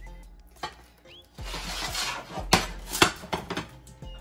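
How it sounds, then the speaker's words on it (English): A plate is set over a pan of soft gluten-free cinnamon rolls and the whole lot is flipped, giving a few sharp ceramic clinks and knocks with scraping and rubbing between them, close and alone. "take a plate, put it over top of your cinnamon rolls"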